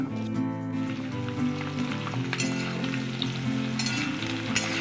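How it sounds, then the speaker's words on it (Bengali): Cut papaya frying in spices in a pan gives a soft, continuous crackling sizzle with occasional light stirring scrapes, fairly quiet and with no voices. "মশলা ভাজা হয়ে গেছে এবার আমি কেটে রাখা পেঁপেটা দিয়ে দিচ্ছি"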